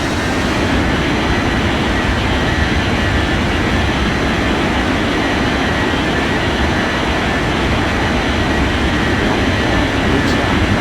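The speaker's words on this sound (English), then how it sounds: "Blue Sky 7947 cleared for takeoff runway" An airliner taking off from runway 18 at an airport, a loud steady roar of jet engines sustained throughout at constant strength, with no speech over it.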